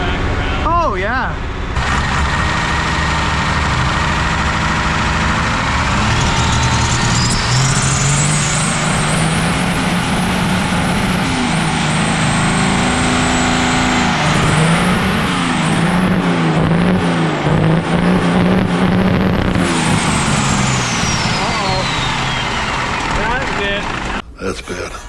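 Cummins diesel engine running badly with a suspected failing piston, rough and loud throughout, a harsh rising and falling whine over a steady clattering rumble, with voices talking close by.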